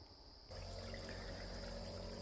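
A small creek flows nearby after heavy rain, heard as a steady, close rushing wash of water that starts suddenly and then holds an even level with no talking.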